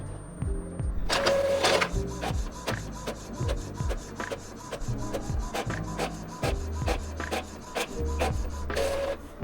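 An Epson printer runs a test page, its print head shuttling back and forth in a steady rhythm of whirring passes and clunks, with a louder paper-feed rush at the start and end, close and without talk.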